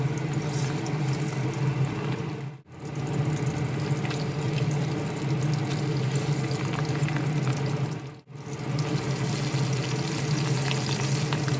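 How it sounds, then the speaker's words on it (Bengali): Two pabda fish frying in hot oil in a wok, a steady dense sizzle that runs loud and close throughout, broken by two brief pauses. "এই তেলের মধ্যে বাকি দুটো পাবদা মাছ একই রকমভাবে ভেজে নেবো"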